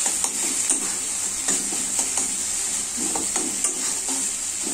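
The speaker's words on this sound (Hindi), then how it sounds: "अब इसे हम अच्छे से तेल छोड़ने तक भूंजेंगे, जब तक ये कढ़ाई ना छोड़ दे बढ़िया से" Spice masala fries in oil in a kadhai, a constant loud sizzle with repeated scraping and stirring strokes of a spoon against the pan.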